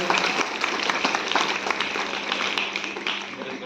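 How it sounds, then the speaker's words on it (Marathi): An audience applauds a prize winner at a Republic Day event, a dense, steady round of many hands clapping that fades slightly toward the end, with no voices over it. "जोरात टाळ्या वाजवून सगळ्यांनी त्याचं अभिनंदन करायचं आहे"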